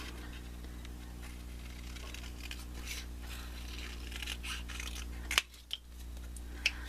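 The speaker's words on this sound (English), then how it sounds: "Just draw an elongated petal and cut it out." Scissors snip through paper while a paper petal is cut out, giving quiet, faint cutting sounds over a steady background hum, with a few sharper snips near the end.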